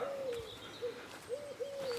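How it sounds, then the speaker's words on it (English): Pigeons cooing along a residential footpath, several soft hooting coos repeating in a short phrase, fairly near, with faint bird chirps in the background. "The pigeons are cooing."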